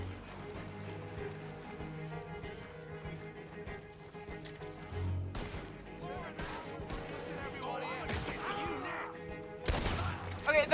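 Scattered gunshots ring out in Red Dead Redemption 2, sharp cracks spread unevenly through the scene, some distant and some closer, mixed with ambient game sounds and rustling, with a louder cluster of shots near the end.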